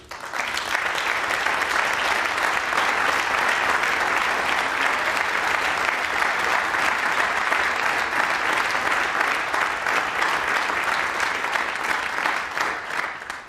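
Sustained applause from the audience in a city council chamber in Marseille after a newly elected mayor's speech, a dense, steady wash of many hands clapping close and loud for about thirteen seconds with no talk over it.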